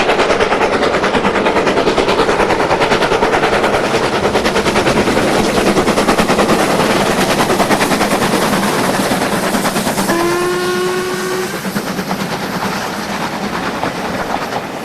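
Steam locomotives LMS Class 2 and Standard Class 4 working hard at the Keighley Autumn Gala in 2003, with loud, rapid chuffing exhaust beats throughout and a sharp whistle blast near the end.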